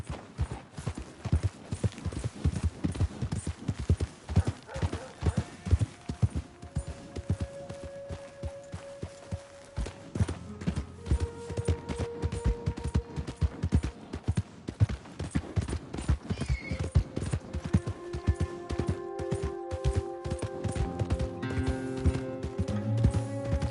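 Steady clip-clopping of horse hooves at a walking pace, close and rhythmic, with some faint tonal sounds coming in toward the end.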